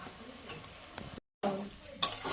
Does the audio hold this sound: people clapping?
no